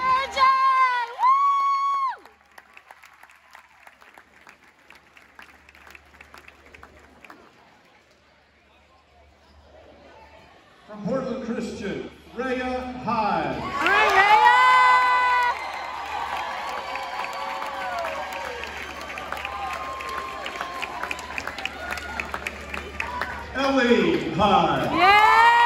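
A championship announcement crowd at a girls' basketball game breaks into loud applause, cheering and whoops, swelling after a quiet lull and carrying on at length, with an amplified announcer's voice and shouts ringing over it.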